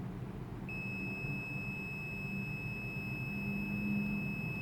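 A multimeter's continuity beep while a tactile switch from a Novita BDN353 bidet controller board is tested, a steady high tone starting early and holding throughout over a low background hum.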